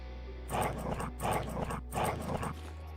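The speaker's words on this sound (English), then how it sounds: "The dogs have gone crazy and they're now attacking their own people." Dogs in the video game Quasimorph bark and snarl as they attack, three rough bursts of growling barks in a steady rhythm over a low constant game hum, close and fairly loud, with no talk.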